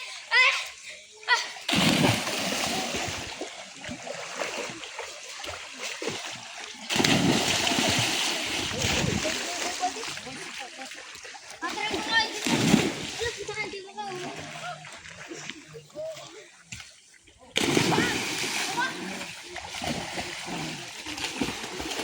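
Children splash and dive into water outdoors, with repeated loud splashes and bursts of churning water among excited kids' voices and an adult calling out, the splashes arriving in clusters over the whole stretch.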